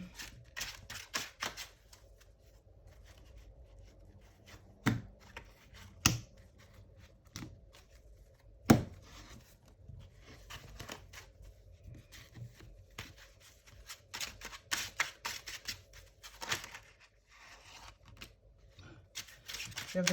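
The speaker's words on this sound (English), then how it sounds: "So let me just give it another shuffle." A tarot card deck being shuffled by hand, giving quiet papery riffles and taps in irregular bursts with a few sharper snaps, close and soft, with faint talk in the background.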